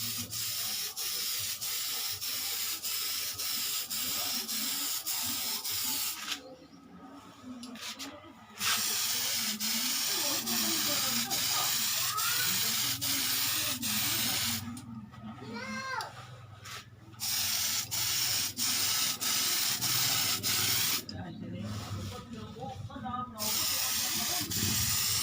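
Tamiya clear coat spray paint hisses onto a Tamiya Lunchbox model body in several long, close bursts separated by short pauses, with a person talking quietly underneath.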